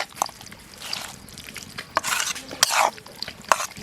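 Raw local duck meat is mixed by hand with ground garlic, cumin, garam masala, chili powder, turmeric, oil and salt, giving wet, squelching, stirring sounds in irregular close bursts without talk.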